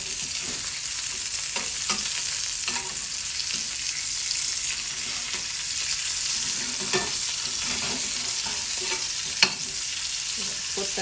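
Sweet Italian sausage sizzling and frying in a dry pan with no oil, a steady hiss with scattered pops and occasional soft scrapes throughout, close and fairly loud with no talking.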